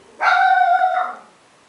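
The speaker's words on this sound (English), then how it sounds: "Sorry, dog's barking." A single drawn-out dog bark or yelp rings out close by, lasting about a second with a tonal, slightly whining quality.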